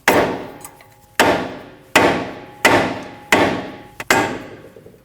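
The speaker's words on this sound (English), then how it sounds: "you can take a rubber hammer, hit where the knuckle is to remove your pressure from your knuckle to your outer tie rod" A rubber hammer strikes a steel steering knuckle on a 2013-2019 Ford Escape 1.5L during front CV axle work, six sharp loud blows at roughly even intervals, each ringing out briefly.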